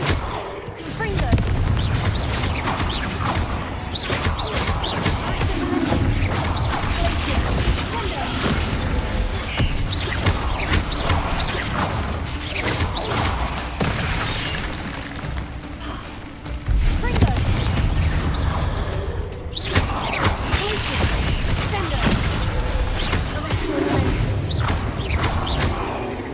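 Repeated Confringo fire spells exploding in Hogwarts Legacy, dense booms and crackling blasts recurring throughout amid busy game effects, with a voice calling out spell names at intervals.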